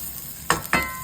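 Ginger hits hot oil in a pan, giving two sharp close bursts of sizzling over a low background hiss, with no talk.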